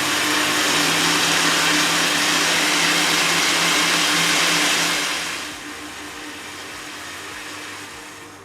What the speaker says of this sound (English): So I'm going to blend a little more.